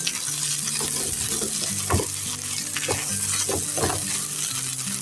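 Meat bhorta fries and is stirred in a pan, giving a loud, continuous sizzle with repeated scraping and tapping strokes from a spoon, close up and without talk.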